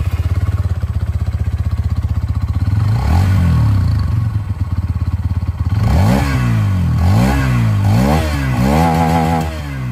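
A 2024 Hero Xtreme 160R 4V motorcycle engine idles loudly at close range with a rapid, even beat, then revs up repeatedly in rising and falling bursts, with no talking.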